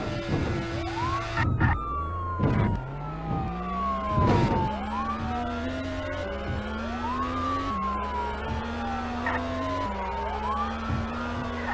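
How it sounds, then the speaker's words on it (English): Police sirens wail in a video game driving chase, several overlapping sweeping tones rising and falling steadily over engine rumble, loud and continuous with a few sharp bumps. "It's not every day that you see the police cars and roadblocks break away from their position and chase after you"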